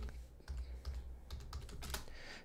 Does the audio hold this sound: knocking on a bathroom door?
no